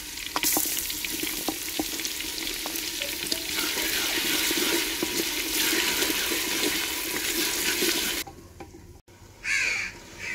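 Ginger garlic paste hits onions frying in a clay handi in a village kitchen, giving a steady, loud sizzle for about eight seconds before it drops off sharply, followed by brief quieter bursts.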